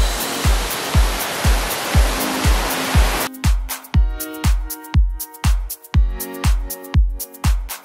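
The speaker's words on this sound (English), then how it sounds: "We are standing on the waterfall." A waterfall on the La Nicolière trail in Mauritius rushes loudly for about three seconds under a steady thumping beat, then the water cuts out and only the rhythmic beat remains.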